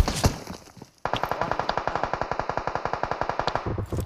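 Gunfire in the PUBG Mobile video game: a few scattered shots, then a sustained rapid automatic burst of evenly spaced, loud shots lasting about three seconds, with no speech.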